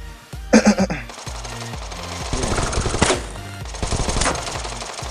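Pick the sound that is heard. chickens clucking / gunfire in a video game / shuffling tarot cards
gunfire in a video game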